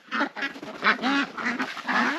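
Duck quacking near a pond in Vietnam, a run of close, loud quacks in quick irregular bursts with no talk.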